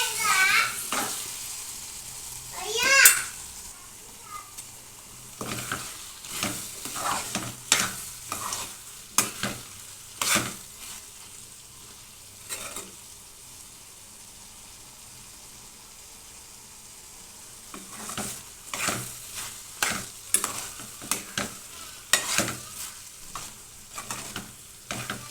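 Tadipatri biryani being stirred and mixed in a cooking pot, a Rayalaseema-style dish: repeated scraping, clattering strokes of a spoon against the pot come in bursts over a soft background sizzle, with quieter gaps between rounds of mixing.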